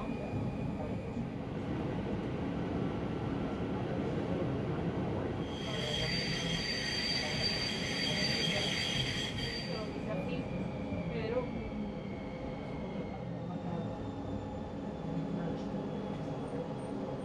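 A tram-train rumbling steadily along rails near Cádiz, Spain, with a high whine rising in the middle, over background voices throughout.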